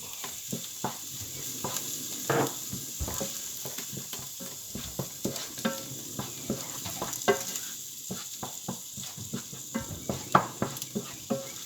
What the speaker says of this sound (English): Keeping that moving, making sure you're not burning any of those spices